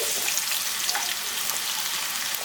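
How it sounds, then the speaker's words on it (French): Onions sizzle and fry steadily in hot oil, a dense, close crackling hiss that runs unbroken throughout with no talking. "Voilà, l'huile est chaude. On va venir maintenant rajouter les oignons ici."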